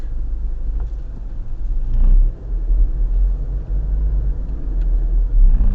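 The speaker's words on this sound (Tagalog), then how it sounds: "Traffic dito." Steady low road-traffic rumble from a car driving through Philippine city streets, continuous and fairly loud with slight swells as the vehicle moves, no voices.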